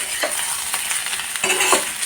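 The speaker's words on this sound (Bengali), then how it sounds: "আর এদিকে মাছটা ভেজে নিচ্ছি, পেঁয়াজ দিয়ে ঝাল করব মাছটা।" Fish frying in a pan for an onion-based spicy fish dish gives a steady close sizzle, with a few louder bursts and scraping stirs over the hiss and no talking.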